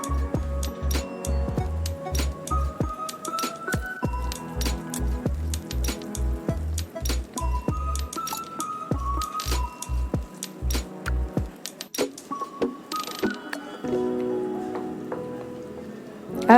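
A spoon stirs chocolate cake batter with milk and vanilla essence, rhythmic wet squishing and clinking strokes against the bowl, steady at first then more irregular, with light music underneath.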